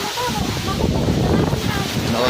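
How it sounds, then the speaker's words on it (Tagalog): Strong typhoon wind roars and buffets the microphone continuously, with tree leaves rustling and a voice faintly underneath, in Taysan. "Lakas ng hangin."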